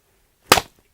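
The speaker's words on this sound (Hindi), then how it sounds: "एक्शन सीन के पीछे जो ढिशुम ढिशुम की आवाज सुनाई देती है वो दरअसल चप्पल और कच्चे मांस से" A single sharp, fleshy slap lands once in the middle of an otherwise silent moment: a slipper struck against a raw flank steak to make a fight punch sound.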